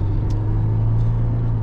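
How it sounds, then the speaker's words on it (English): A car travels close behind on a rural West Virginia road in Nicholas County, giving a steady low engine and tire rumble that holds evenly throughout. "Car's on top of me."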